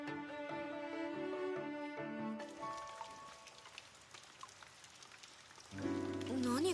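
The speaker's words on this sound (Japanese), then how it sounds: "屋上の床を見てみたらひびが入ってて、そこから水が染みてきてるみたい" Rain leaking through a cracked rooftop floor in the video game Blue Reflection: a steady wash of patter and drips rises mid-clip between passages of soft game music, with no talking.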